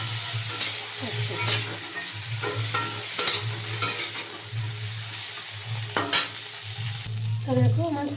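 Carrots, peas and other chopped vegetables for khichdi fry in a pan with a steady sizzle, broken by repeated scraping strokes of a spoon stirring them, close and moderately loud with no talking.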